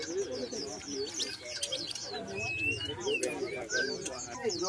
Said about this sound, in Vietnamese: Nhiều chim ca các bạn.